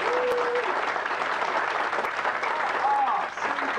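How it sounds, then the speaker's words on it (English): A pantomime audience claps and cheers in a theatre, a dense, steady round of applause with some voices mixed in throughout. "Ladies and gentlemen, a round of applause, please."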